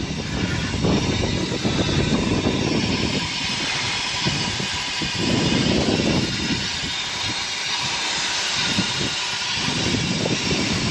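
A Brockway 358 truck engine idles steadily up close, a loud continuous low rumble with pulsing throb and broadband roar throughout, no voices.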